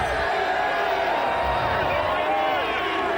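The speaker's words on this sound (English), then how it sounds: "the crowd is saying something, we don't know what" A studio audience crowd cheering and calling out in a steady dense roar, with voices talking over it.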